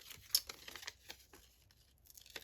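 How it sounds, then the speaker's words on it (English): Scissors snipping through paper, close and quiet, a quick run of small crisp crinkling cuts and tearing rustles with brief pauses between them. "I do want to try my other scissors"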